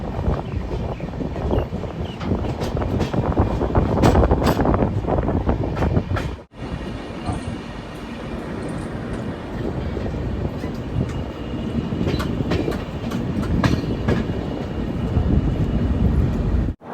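Netaji Express, the Howrah to Kalka train, runs onto a river bridge before Dehri-on-Sone station, with a loud, steady rumble and clatter of wheels heard from aboard and a brief dropout partway through.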